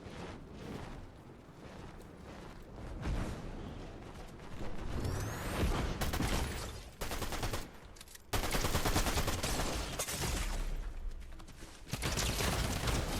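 Rapid bursts of gunfire from two weapons in Fortnite Chapter 5 Season 2, loud and dense, with a brief pause near eight seconds before the shooting resumes just as heavily.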